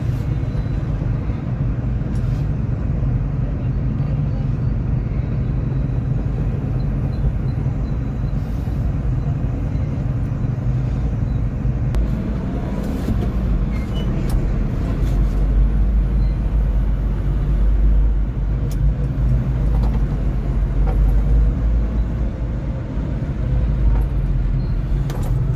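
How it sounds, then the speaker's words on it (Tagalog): Heavy road traffic on a single-lane stretch of road in the Philippines: a dense, continuous rumble of passing cars and buses, loud and steady throughout, with occasional thumps and clatters. "matraffic talaga dito kasi nga isang lane lang doon sa papasok, kaya marami din kasing sasakyan ng labas-pasok"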